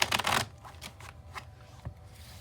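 Tarot cards shuffled by hand for a spirit guide card draw, a loud riffling burst at the start followed by softer scattered card flicks and slides, close up with no talking.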